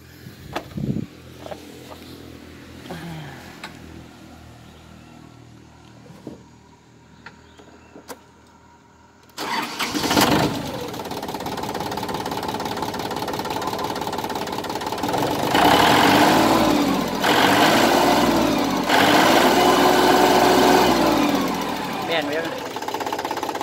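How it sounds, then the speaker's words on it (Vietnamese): An Iseki TA312 tractor's engine cranks and catches, then settles into a loud, steady diesel idle that rises in revs partway through, close up and alone after a quiet stretch with small handling noises. "Rồi, để em nổ máy cho bác xem luôn nhé."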